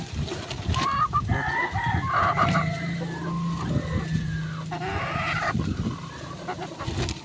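A rooster crows loudly nearby, followed by clucking and another crow, the calls drawn out and rising over faint farmyard background.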